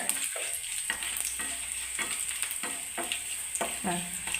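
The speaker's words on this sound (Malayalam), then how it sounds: "അതിനകത്തോട്ട് രണ്ട് മൂന്ന് ഒന്ന് വറ്റലുമുളകൂടി ഇടാം അതൊന്ന് ചൂടാവുന്ന ചെറിയ ബ്രൗൺ കളറായിട്ട് ആയി വരുന്നുണ്ട്" Dried red chillies fry in hot oil for a coconut chutney curry, giving a quiet, steady sizzle with soft scraping stir strokes and occasional light pops.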